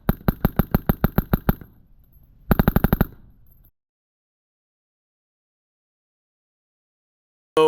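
Suppressed gunfire from a rifle fitted with a Velos suppressor and a KAC PRT: a fast string of about ten loud, evenly spaced muffled shots, a pause, then a shorter quick burst, followed by silence.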